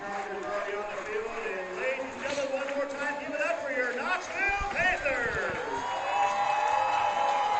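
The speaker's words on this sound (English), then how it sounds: "there you hear the home crowd with the cheers down below us" Home crowd at a high school football game, Chariton versus Knoxville, cheering from the stands below, a steady dense wash of many voices with shouts rising and falling throughout.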